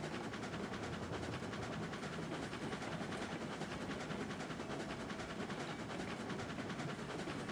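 A model train locomotive runs in reverse at full speed around a layout, giving a steady, continuous rumble with fine rail clatter that stays even throughout, with no voices.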